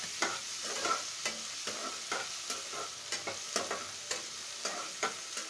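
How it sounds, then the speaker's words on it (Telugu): Onion and tomato frying in a pan for rice rava upma make a continuous sizzle while a spoon scrapes and taps the pan in a regular rhythm of about two strokes a second, close up with no talking. "ఉల్లిపాయ వేగింది కదా ఇప్పుడు టమాటా వేసేసుకోవాలి"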